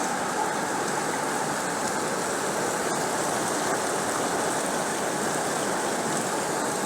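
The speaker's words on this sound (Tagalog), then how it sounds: "Lalo pa rin lumakas ang ulan." Heavy monsoon rain pours down without a break during a habagat downpour, a dense, steady roar of water that stays loud and even throughout, with no voices.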